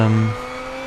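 A 1994 Subaru Impreza engine from Gran Turismo 6, lapping the Nurburgring, drones with a steady buzzing tone that drops in pitch as the revs fall off, loud and close.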